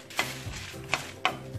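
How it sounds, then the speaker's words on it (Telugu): Peanuts frying in a pan for groundnut powder, a continuous sizzle broken by three sharp scraping stir strokes, close and fairly loud. "వేసి బాగా ఫ్రై చేసుకోవాలి"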